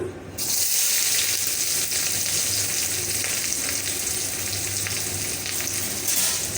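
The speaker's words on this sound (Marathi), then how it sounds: "हें आतां ब्रावन कलर जावं तितलें भाजता" Onions browning in hot oil for a fish masala curry give a loud, continuous hissing sizzle close up, with a faint watery crackle running through it.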